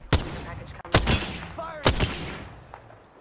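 Gunfire in the Apex Legends video game: three sharp, loud shots spaced about a second apart, with game effects and a faint ringing tone between them.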